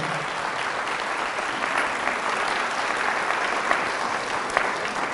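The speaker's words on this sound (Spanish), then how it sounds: "Fuertes aplausos a Jesús de Nazaret" Spanish-speaking church congregation breaking into applause during a Catholic sermon, a thick, continuous roar of many hands clapping at steady strength, with scattered sharper claps standing out near the end.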